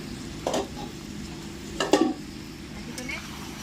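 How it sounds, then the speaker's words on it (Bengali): Chicken pieces being sautéed and stirred in masala in a pan for chicken masala chaap, a low background sizzle broken by a few distinct spatula scrapes and clinks against the pan. "এবার মাংসটা ভালো করে কষিয়ে নেব"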